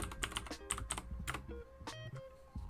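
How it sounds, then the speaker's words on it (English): Loud clacky computer keyboard being typed on in quick uneven bursts of sharp close keystrokes, a few louder strikes standing out, with short pauses between runs. "I'm using a very loud keyboard"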